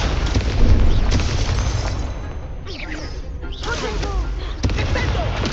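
A Confringo fire spell exploding in Hogwarts Legacy, a booming blast carried on by dense, roaring combat noise that eases briefly near the middle and then swells again.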